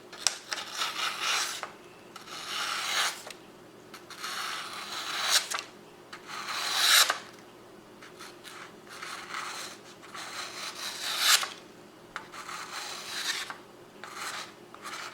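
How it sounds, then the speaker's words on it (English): A Roxon Phantasy replaceable-blade knife slices through paper in a series of rasping, scratchy strokes of about a second each, separated by short gaps. The sound is close and fairly loud, with no one talking. "See if it cuts some paper."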